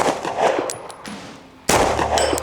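A sharp shot from a Sig Sauer P320 AXG Legion pistol bursts out close by, followed by a brief metallic ring of the bullet hitting a steel plate, against outdoor noise and a short lull before the shot.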